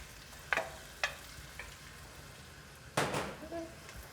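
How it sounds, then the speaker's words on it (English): Bell peppers and yellow onions frying in a Dutch oven, a faint steady sizzle with a few sharp stirring scrapes and clatters heard up close. "our bell peppers are starting to cook and get a little tender. So now we're gonna go ahead and add the yellow onions"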